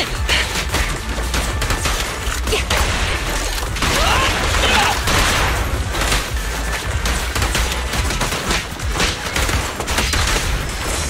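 Sustained gunfire from the video game Zenless Zone Zero, a dense, loud barrage of rapid shots that runs unbroken for about eleven seconds amid game effects, with faint voices underneath.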